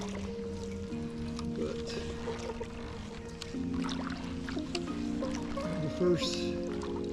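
A paddled boat moving along a marshy river past a net, soft water swishes and drips beneath someone talking, with a steady hum in the background.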